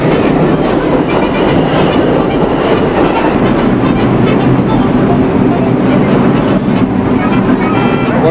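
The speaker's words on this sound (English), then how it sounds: "Here comes the train." A New York subway train pulling into a station, a loud steady rumble with rattling wheels and clacking cars filling the platform, and people talking faintly underneath.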